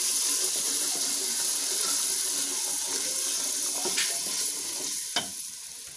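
Ground frozen tomatoes go into a pan of fried ginger and garlic and get stirred in, giving a steady bright sizzle with soft scraping, easing off near the end with a brief clink.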